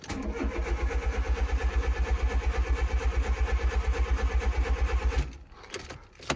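A car's starter motor cranks steadily to draw fuel through a newly changed fuel filter and lines, a rapid rhythmic chugging for about five seconds before cutting off, with no speech.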